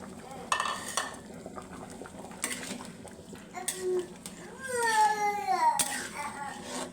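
Alughata being stirred and fried in a pan after tomato, onion and green chilli go in, with scraping utensil strokes and soft sizzling under intermittent voices.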